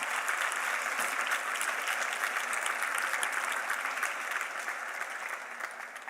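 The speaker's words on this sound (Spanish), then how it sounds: "Nada más una persona aplaude." Church congregation applauding during a sermon on the end times: sustained, dense clapping from many hands, steady and fairly loud, tapering off slightly toward the end.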